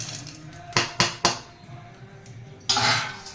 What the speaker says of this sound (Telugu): ఈ బూందీ కూడా ఇప్పుడు ఇందులో వేసేస్తున్నాను.